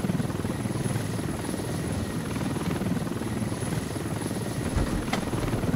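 An assault helicopter in the video game Squad thrums continuously in flight, its fast rotor chop steady and prominent throughout, with no voices over it.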